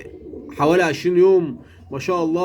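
Young pigeons about twenty days old coo in a breeding loft, giving two close, loud, rising and falling calls while someone talks over them.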